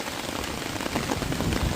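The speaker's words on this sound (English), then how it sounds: "the wind's blowing this rain sideways" Heavy rain blown sideways by wind during a thunderstorm pelts a tarp in a dense, steady patter, loud and close with no pauses.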